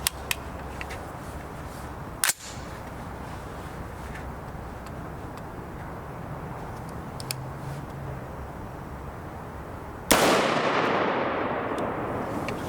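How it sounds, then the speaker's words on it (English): A 6.5 Grendel rifle loaded with 120 grain boat tail hollow point rounds fires a single sharp, loud shot near the end, following a long stretch of steady background noise broken by one earlier click. "we'll take a shot out of the 12 and 18-inch and see what's going to happen with the 120 grain boat tail hollow point"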